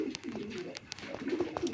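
An old-breed Rasgolla pigeon gives soft, low cooing calls, faint and near, with a few light rustles and clicks around it and no speech.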